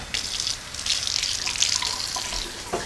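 Tap water runs steadily into a kitchen sink for rinsing, a close, bright hissing stream that persists for a few seconds with small splashes, heard alone.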